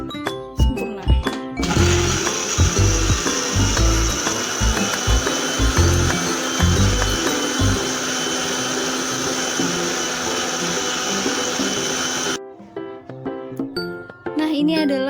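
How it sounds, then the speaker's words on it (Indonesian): An electric blender grinds red chili peppers into a smooth paste, a loud continuous whirring drone running for about ten seconds between brief clinks and knocks, with a voice speaking at the start and end. "kita akan memblender cabai merah, di blender sampai halus"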